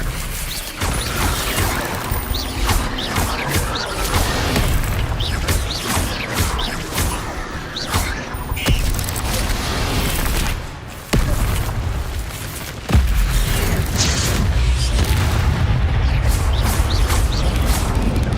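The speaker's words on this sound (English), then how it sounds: "Levioso! Incendio! Expelliarmus!" Spells cast in Hogwarts Legacy go off as repeated booms, crackles and mechanical impacts, loud and dense over a steady game soundscape, with a sharp jump in level near the end.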